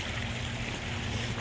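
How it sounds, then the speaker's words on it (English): Constant rushing stream of water spilling by gravity from a pond waterfall down into a bog, a dense, steady broadband wash heard close up with no talking. "it runs from the top of my waterfall here down and it feeds the bog"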